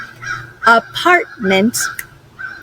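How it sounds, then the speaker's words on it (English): Birds call in the background somewhere in Virginia, faint and intermittent behind a close voice speaking. "Do you hear birds in the background?"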